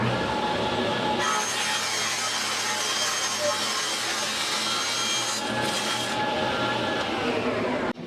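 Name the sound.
bandsaw cutting off the side of a wooden drum shell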